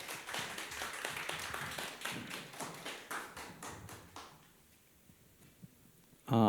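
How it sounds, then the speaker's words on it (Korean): An audience claps steadily at an event showcase as a team leader is welcomed, dense close applause that thins out and fades into quiet near the end. "박수 부탁드립니다."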